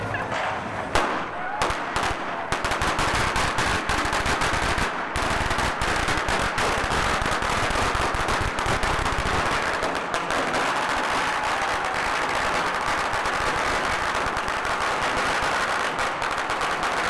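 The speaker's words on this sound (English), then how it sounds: "here he is, lighting the ceremonial firecrackers to kick it all off" Ceremonial firecrackers set off at a Chinese New Year parade crackle in a dense, continuous loud barrage of rapid pops, stuttering at first and then running unbroken for the whole stretch.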